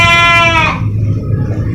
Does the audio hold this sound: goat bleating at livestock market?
yes